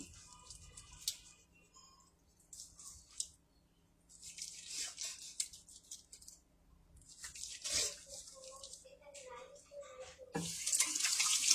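Water splashes and patters as a face is washed by hand, with irregular bursts of splashing and dripping at close range and a faint voice in the background.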